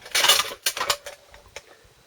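Metal cup lid of a Swedish Army Trangia spirit stove set down on top of the burner, a quick cluster of bright clinks and rattles followed by a few lighter taps.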